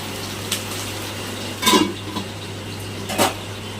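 A lid clatters onto a pan of pabda fish frying in oil, two metallic clanks over a low steady sizzle.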